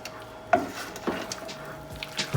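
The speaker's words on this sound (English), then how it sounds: "Very good stir now." Cold pasta tossed with vegan chicken pieces being stirred in a bowl, giving a few soft scraping knocks of a utensil against the side, close and fairly quiet, with no talking.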